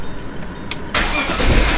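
A 2001 BMW 325i wagon engine cranks briefly and then catches, settling into a close, steady idle rumble.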